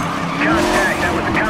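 Car crash in the Need for Speed Most Wanted racing game during a police pursuit of a silver Maserati, with continuous loud engine roar and tire squeal, a brief impact thud partway through, and a radio voice talking over it.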